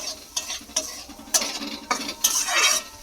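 A potato and sattu mixture stirred and fried in a pan: a steady sizzle under repeated scraping strokes of a spoon across the pan, close and fairly loud, roughly three strokes a second, with no talk.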